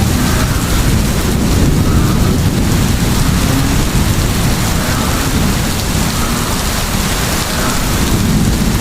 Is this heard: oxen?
no